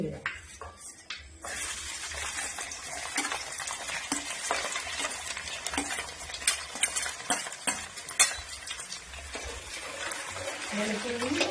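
Garlic is stirred into a thick, heavy uruli pot while making fish pickle, with continuous scraping, clinking spoon strokes and light frying crackle, close and busy throughout.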